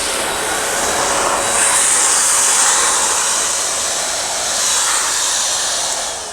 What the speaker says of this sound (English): we recommend using the Sidekick Blaster. All you need is an extension cord. You come close and you can just blow it off.